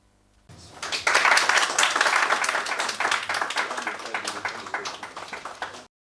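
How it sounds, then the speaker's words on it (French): Participants at an NGO human rights capacity-building seminar clap together in a dense burst of applause that swells quickly, holds steady for several seconds, then cuts off. "Ces applaudissements traduisent la satisfaction des ONG qui participent au séminaire de renforcement de capacité sur les droits de l'homme"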